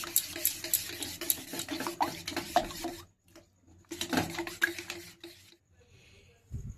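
Egg being whisked with salt and black pepper in a bowl, a fast run of scraping, clattering stirs that pauses near the middle and then resumes briefly before trailing off into quiet.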